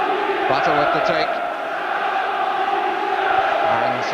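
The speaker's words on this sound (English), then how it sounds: "And some good support from the home crowd" Home supporters at an FA Cup fourth-round football match between Norwich City and Tottenham send up a steady roar of cheering and chanting that lasts throughout, and voices are audible over the crowd.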